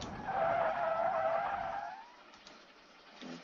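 Screeching tire skid from a car in the BeamNG.drive driving game with the engine switched off, a loud sustained squeal for about two seconds that fades away, then a brief faint chirp near the end.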